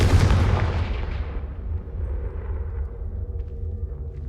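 Confringo fire spell cast in Hogwarts Legacy bursting with a loud blast that decays into a long, fading rumble over a few seconds.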